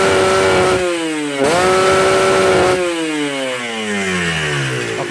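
A Kawasaki Ninja two-stroke motorcycle engine screams close by, revving hard toward top RPM in several sustained high-pitched pulls with a brief dip between them, a raspy buzzing tone throughout.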